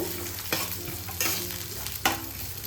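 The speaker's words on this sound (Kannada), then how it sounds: "ಶುಂಠಿ 2 ಇಂಚಷ್ಟು ಹಾಕ್ಕೊಂಡು ಚೆನ್ನಾಗಿ ಹುರ್ಕೋಬೇಕು." Peeled garlic and a two-inch piece of ginger fry in oil in a pan, with a close, steady sizzle broken by three sharp stirring scrapes.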